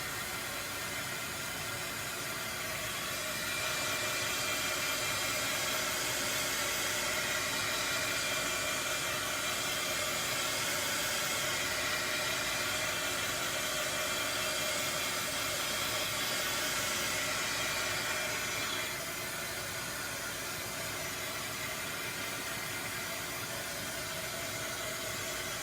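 A hair dryer blows steadily on freshly stenciled painted words from a Magnolia Design Company anchor and 'together' stencil, a continuous close whooshing hiss that swells louder for a long middle stretch before easing back, with no talking.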